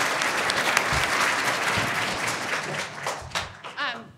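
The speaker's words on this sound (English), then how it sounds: "Let's give a round of applause for him." Audience applause at an evening awards show for Idaho's fastest-growing companies, honoring a sponsor from Scoggin Capital Investment; dense clapping from a large crowd fills the whole stretch, thinning slightly toward the end.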